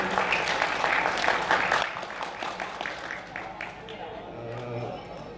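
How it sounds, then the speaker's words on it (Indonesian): Audience applause at a podcast about a kentongan folk arts group, a burst of clapping that thins into scattered claps as murmured talk rises underneath. "tepuk tangannya untuk teman-teman."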